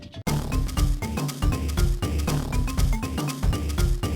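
Bright, chiptune-style handheld soundtrack music from the game Crash Bandicoot: The Huge Adventure, with a bouncy beat and looping melody, played on its own without any talking.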